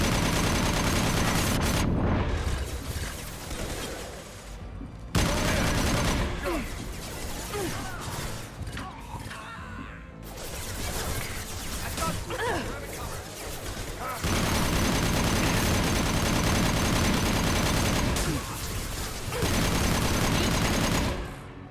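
Heavy sustained gunfire in Mass Effect Legendary Edition 2, loud bursts of rapid shots and blasts filling the scene with brief lulls, with speech partly audible beneath the barrage.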